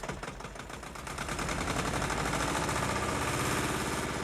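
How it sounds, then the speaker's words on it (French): A small diesel engine drives a grain mill, giving a steady, rapid chugging rattle that builds slightly in loudness and then holds constant, with no voices. "L'ensemble est mu par un petit moteur diesel."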